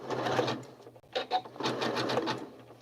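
A sewing machine stitches straight over a zigzag seam with dental floss channelled down the middle, running in two steady bursts with a short pause between them, close and moderately loud with no talking.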